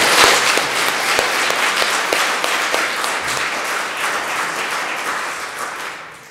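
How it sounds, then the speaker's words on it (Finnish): An audience applauds at a presentation event, steady dense clapping that stays loud and fades slightly toward the end. "Mun mielestä oikeastaan meidän hankkeet ansaitsisivat nyt aplodit."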